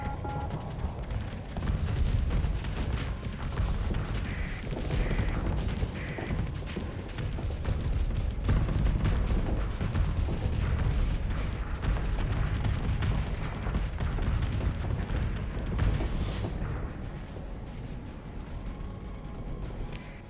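Ship weapons fire in the space combat game Starsector, a dense, continuous barrage of booming shots and explosions that stays loud for the whole stretch with no pauses.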